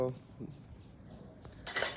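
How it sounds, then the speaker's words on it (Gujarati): Dishes and cutlery clink and clatter faintly in the background, with a brighter burst of clattering near the end. "માં જે છે ને વાસણ કરે છે"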